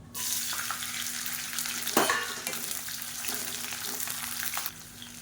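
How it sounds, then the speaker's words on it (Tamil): Pirandai (adamant creeper) frying in sesame oil, a dense, bright sizzle that holds steady throughout, broken by a few spatula scrapes and a knock before it quiets at the end. "இப்போ இந்த பரண்டை வதங்கட்டும்"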